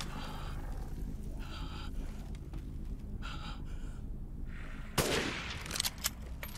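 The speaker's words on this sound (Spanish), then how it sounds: "Ha pegado unos tiros increíbles" Gunshots ring out in Resident Evil Village on PS5: a sharp, loud burst near the end, then a couple of quicker shots over a steady background rumble of game ambience.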